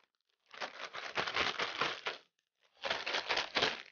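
Scissors cut through a thin plastic trash bag, like a Lowe's bag, for embroidery: two close bursts of crinkling, snipping plastic separated by a short pause, no voices.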